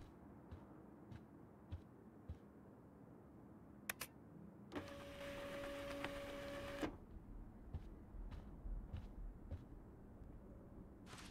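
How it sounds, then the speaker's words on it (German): A printer runs inside a room in the Life is Strange video game, a steady mechanical whirring with a faint tone that lasts about two seconds midway through a quiet ambient scene. "Das ist ein Drucker."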